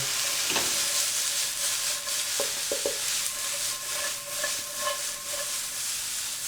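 Food sizzles steadily in a frying pan on a home stove while a utensil scrapes and stirs with a few light knocks, a continuous close hiss with no talking.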